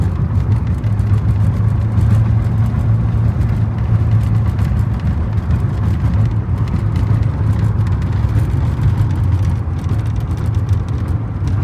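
A 1978 Datsun 280Z cruising along a road, with a steady, loud engine hum and road rumble holding throughout, close and continuous, with no one speaking.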